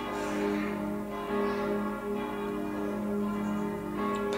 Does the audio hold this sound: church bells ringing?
yes